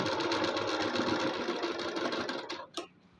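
A sewing machine runs steadily, stitching the fabric lining of a suit, its rapid mechanical whir continuous and close for nearly three seconds before it stops abruptly, leaving near silence.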